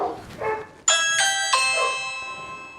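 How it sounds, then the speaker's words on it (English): A home doorbell chimes with three ringing tones in quick succession, each tone sustaining and overlapping, preceded by a dog barking a couple of times nearby. "And that's the doorbell on"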